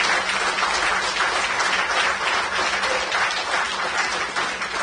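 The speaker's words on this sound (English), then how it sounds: "I request all of you to to give a clap to our management" Audience at a bank officers' triennial conference applauding management: steady, dense clapping from a large crowd that lasts the whole stretch without a break and stays loud and even throughout.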